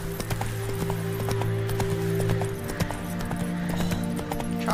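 Roach the horse galloping in The Witcher 3, a steady fast clip-clop of hooves over a low continuous hum, close and even in rhythm for several seconds.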